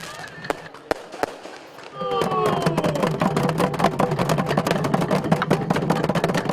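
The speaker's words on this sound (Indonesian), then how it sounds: "Pesta kembang api menghiasi malam pembukaan Festival Cisadane yang dihadiri ribuan warga Tangerang." Loud fireworks at the opening night of the Cisadane Festival in Tangerang: a few scattered pops, then whistling rockets and a dense, continuous barrage of crackling bursts.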